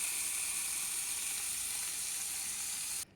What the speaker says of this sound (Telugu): చింతపండు గుజ్జు అండి. ఇది వేసేసి పచ్చివాసన పోయే వరకు వేయించుకుంటానండి.